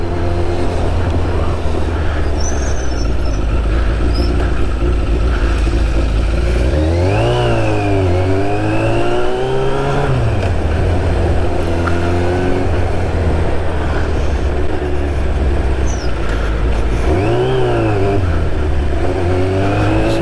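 Steady engine drone from inside a moving car, with the pitch rising and falling as it accelerates and shifts gears.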